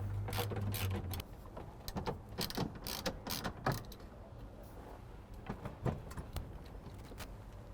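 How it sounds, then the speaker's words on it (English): A socket ratchet loosens two half-inch nuts under the steering column of a 1955-1956 Chevy, giving a close series of quick clicking ratchet bursts and small metallic clatter, with no talking. "There's two 1/2-inch nuts under here. Just get a 1/2-inch socket and ratchet."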